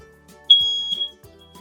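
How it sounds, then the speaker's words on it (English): A household smoke alarm gives a short, shrill electronic beep, loud and close against near-silence. "they make a beep beep beep sound just like this"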